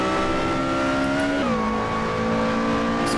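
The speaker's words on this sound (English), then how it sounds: "proper sports car this is really, with the engine in the middle and all that" A Lotus Elise SC mid-engine sports car drives at Laguna Seca, its engine a steady, loud drone whose pitch climbs and then drops sharply with a gear change before holding steady again, with no voices.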